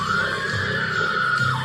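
A woman lets out a long, sustained high-pitched scream in the 1984 horror film A Nightmare on Elm Street, loud and steady for over a second before it drops at the end.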